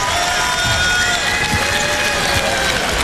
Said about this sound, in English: From the Arizona State crowd, a lot of cheers because they got a chance to see their team do what it does best tonight.